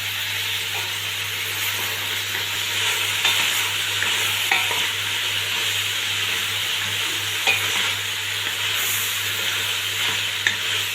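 Onion, tomato, carrot and bay leaves sizzle steadily in a pan while a spoon stirs them, with occasional scraping clicks over the continuous frying hiss.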